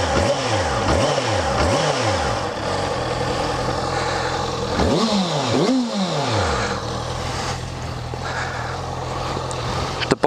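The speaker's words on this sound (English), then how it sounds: "For those who want to know what the exhaust sounds like" A Honda CB650F motorcycle exhaust burbles nearby, with several quick revs rising and falling over a steady idle rumble.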